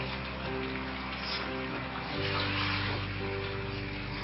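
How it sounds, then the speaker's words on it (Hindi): Water from boiling meat is poured into a masala korma for dum biryani, giving a steady, close liquid rush and splash that continues throughout over a low hum. "मैं ये पानी इसके अंदर ऐड कर दूंगी"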